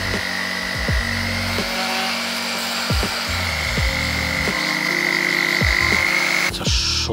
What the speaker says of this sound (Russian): спилю вот эту часть, вот это ребро жесткости фрезой